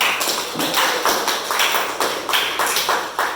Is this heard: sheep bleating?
no